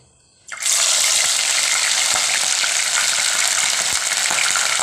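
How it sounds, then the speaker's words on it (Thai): Sea bass dropped into hot oil bursts into a loud, dense sizzle after a brief quiet moment, then keeps crackling steadily up close with a few faint pops, no voices. "เราก็รอแค่น้ำมันให้มันร้อนขึ้นมาแล้วก็ ทอดเลยนะฮะ"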